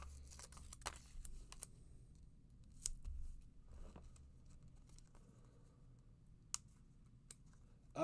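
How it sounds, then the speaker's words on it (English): Scissors being handled, faint sparse clicks and snips with light rustling in a quiet room. "as I'm pulling out my scissors that I love"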